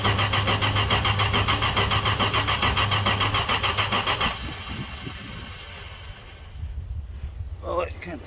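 A Dodge D100 truck engine is cold-started and runs at a loud, rough idle nearby, then drops quieter and fades under wind and handling noise.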